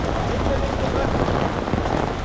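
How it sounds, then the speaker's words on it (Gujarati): Heavy continuous rain pours onto surfaces in a flooding residential neighbourhood, a loud, dense, unbroken hiss of water that fills the whole scene. "એક ધારો વરસાદ આવી જાય"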